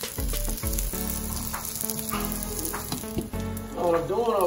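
Cut steak, shrimp, asparagus, tomatoes and onions cook with butter and lemon in a pan, sizzling steadily up close with a few clattering stirs, and a voice briefly at the end.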